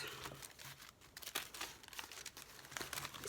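Junk mail paper envelopes being handled and shuffled, giving faint, continuous crinkling and rustling with a few soft crisp rips of paper, close by and quiet.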